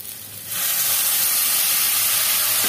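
Water poured into a pan of frying spiced potatoes, setting off a sudden loud, steady sizzling hiss that starts after a brief quiet moment and keeps going.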